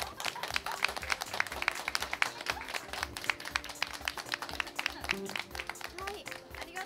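An audience at a live music show gives sustained, dense applause for a band, with clapping close and continuous throughout and voices mixed in.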